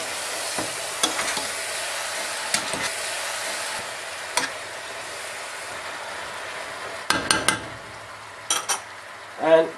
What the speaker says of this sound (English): Give everything a good mix.